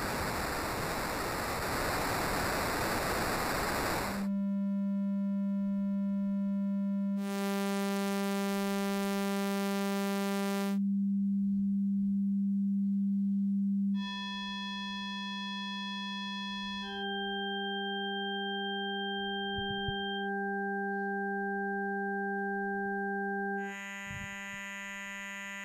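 An ALM Busy Circuits MCO analog oscillator starts with a burst of noise, then gives a series of steady, loud held tones, each switching abruptly to a different waveform or pitch, with no voices.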